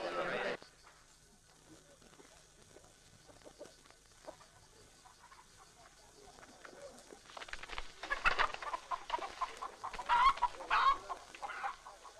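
Chickens clucking in a Western frontier setting, faint and scattered at first, then growing louder and busier toward the end, with a voice speaking over them.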